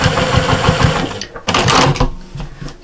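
A sewing machine stitches binding tape onto a scrap-fabric cushion, its rapid steady chatter running loud and close, briefly pausing near the middle before resuming.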